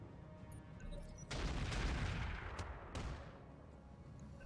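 Mortar shells strike a mech in the RogueTech BattleTech mod, a broadband blast at about 1.3 s rolling into a sustained rumble, with two sharper follow-up impacts near 2.6 and 3 s over a low background hum.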